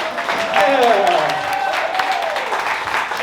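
Studio audience applause and cheering at a live show at the Milk Parlor, a dense continuous wash of clapping with a voice calling out over it, fairly loud throughout.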